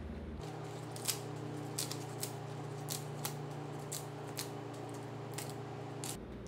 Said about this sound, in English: Remove the spine of the leaf there.